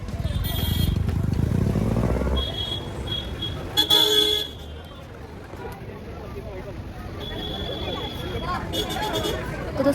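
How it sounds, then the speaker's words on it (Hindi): Congested traffic at the gate of a Mahabaleshwar attraction, with a car horn tooting briefly near the start and again around four seconds over a steady rumble of idling vehicles and crowd chatter, voices talking throughout. "बहुत जाम लगा है, बहुत मतलब बहुत।"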